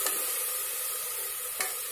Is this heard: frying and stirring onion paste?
yes